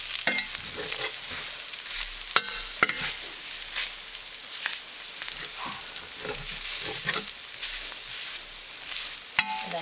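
Flour cooking in a hot pan for Salisbury steak gravy gives a constant low sizzle broken by sharp clicks of a utensil scraping and stirring, fairly close, with no talking.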